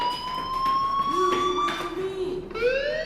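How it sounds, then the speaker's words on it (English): A fire alarm rings in the video game Life is Strange, sounding as a steady electronic siren-like tone that holds, briefly drops out and then resumes with a rising pitch, heard clearly with faint background sound. "do you hear that fire alarm? That means you should be outside."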